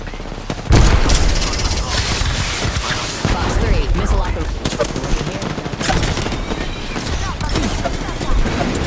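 Heavy gunfire from the video game Apex Legends on Storm Point, a loud sustained mix of rapid automatic bursts and sharp single shots with a few booming impacts, while radio-style voices speak over the shooting.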